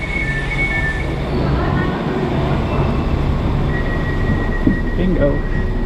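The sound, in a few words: diesel-powered train boarding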